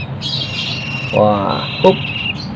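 A hand-fed Javan banded pitta chick gives a short burst of rapid, rasping squawks up close, followed by another brief call, while someone speaks short words nearby.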